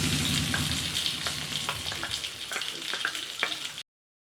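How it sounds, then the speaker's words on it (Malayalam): A mustard-seed tempering for Kerala varutharacha sambar sizzles loudly and close, a dense frying hiss scattered with sharp pops and crackles that thin out toward the end before the sound cuts off abruptly. "കടുക് വറുത്ത് കഴിഞ്ഞ് നമുക്ക് സാമ്പാറിൻ്റെ മുകളിലേക്ക് ഒഴിച്ചു കൊടുക്കാം."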